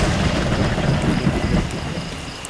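Steady rain pours down with gusting wind during a storm with lightning, a dense, continuous wash of noise with a low rumble underneath, no voices.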